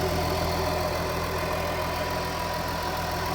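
A 2018 Ford F150 with a Powerstroke diesel engine idles nearby, a steady low rumbling drone with a faint knocking texture and fan whir, no voices over it.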